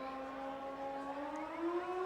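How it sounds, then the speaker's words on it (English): A big stadium siren sounds at a football game between the Okanagan Sun and the Langley Rams, a sustained wailing tone that slowly climbs in pitch and carries steadily from a moderate distance. "That's the Okanagan Sun alumni hitting the big siren there."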